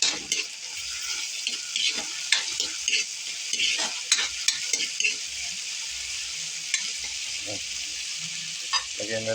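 Tofu stir-fries with oyster sauce in a hot pan, giving a constant close sizzle broken by frequent clinks and scrapes of a spatula against the metal.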